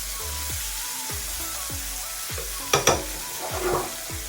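Baby potatoes fry in a pan with fresh garlic and butter, a loud, constant close sizzle under a series of rhythmic scraping stirs, about two per second, plus a brief clatter near the end.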